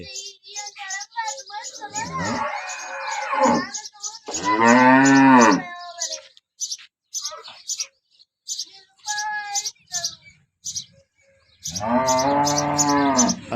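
A cow that calved that morning moos loudly and close by, three long drawn-out lows, with birds chirping steadily throughout the background.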